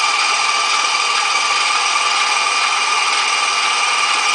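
An electric mixer creams peanut butter cookie dough with a steady, even high whir that runs unbroken and close at a constant speed, with no talking over it.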